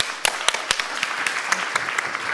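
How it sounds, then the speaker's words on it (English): A forum audience breaks into applause, dense clapping from many hands with several close, sharp claps punctuating the steady roar. "Give them a big round of applause."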